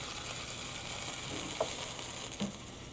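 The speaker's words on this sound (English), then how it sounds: "you see the LNG is boiling off" A steady hiss and crackle of extremely cold liquefied natural gas boiling off on water, with faint pops, fairly close and continuous.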